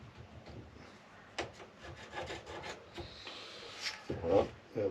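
Handsaw cutting wood between two pencil lines while building furniture for an expedition 4x4 truck, a quiet irregular run of rasping strokes with scattered knocks, close by and without talking.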